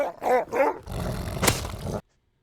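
Wolf in the Rust video game snarling and growling, two short close barking growls followed by a longer rough rumbling growl that cuts off abruptly, with no talk.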